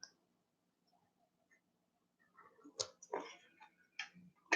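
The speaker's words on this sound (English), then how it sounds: "I have to manipulate my scissors at an angle here." Scissors snip paper at an angle while an ephemera folder is being crafted: near silence gives way to a quick run of close, crisp clicks and cuts in the second half.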